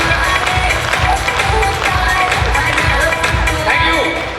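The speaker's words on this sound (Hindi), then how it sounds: "तो मैं चाहूंगा आप सब लोगों से भारतीय सेना के लिए एक बार जोरदार तालियां बजाएं साथियों" Audience at a speech clapping loudly for the Indian Army, a dense sustained applause with a crowd murmur underneath, close and continuous throughout.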